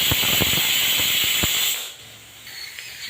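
A pressure cooker on a gas stove, cooking fenugreek and potatoes, lets out a loud sustained steam whistle with a few sharp clicks in it, then the hiss cuts off abruptly and fades to a quieter background.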